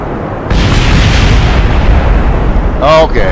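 A loud rocket explosion in a space video game bursts in as a sustained booming roar, followed near the end by a short spoken voice.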